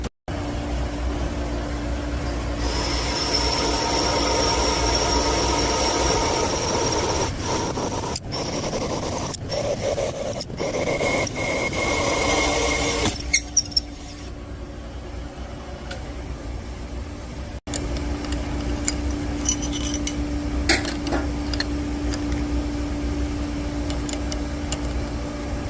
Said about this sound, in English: Okay, back to the core drill. Let's do the exhaust.